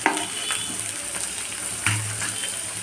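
Onions frying in a pan hiss with a steady close sizzle while a utensil stirs them, giving a few scraping clinks and bumps over the constant crackle.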